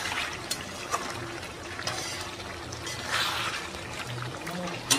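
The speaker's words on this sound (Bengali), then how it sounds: "জল দেবো না মাংসে?" Water pours and trickles into a pot of cooking meat and potato curry, a soft uneven splashing close by, with people talking over it and a few clinks.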